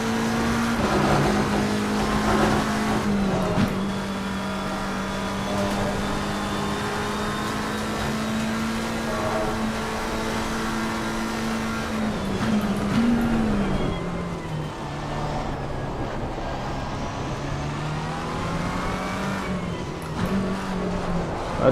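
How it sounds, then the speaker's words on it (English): A race car driving in the wet at Silverstone, its engine droning steadily and loud before dropping in pitch through short-shifted gear changes, then rising and falling again as the car works through corners. "Short shifting to third."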